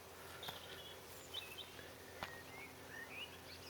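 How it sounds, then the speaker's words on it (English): Faint, scattered bird chirps over a steady outdoor hum, a few short high calls spread across the clip. "You can hear the insects and the birds and bees, sometimes the frogs."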